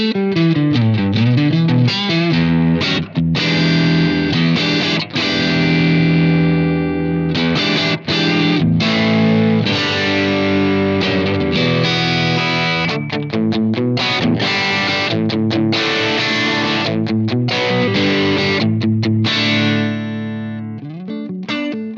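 Electric guitar on the neck pickup through a Blackstar Amped2 with light crunch plays a continuous run of chords and single notes, slightly distorted, full and close with no talking.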